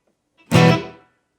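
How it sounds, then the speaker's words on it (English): One short plucked electric guitar note rings briefly and dies away quickly, with only a slight tail of reverb. "A minimal amount of reverb would sound like this."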